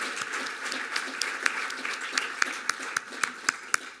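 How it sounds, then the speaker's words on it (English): Moderate applause from an audience at a fall leadership event, a thinner spread of clapping with a few sharp, close claps standing out in an uneven rhythm over about four seconds. "maybe we can just give a little bit of an applause for all that he's done for us"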